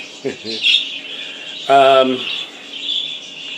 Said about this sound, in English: I'm playing parakeet noises, and makes him happy.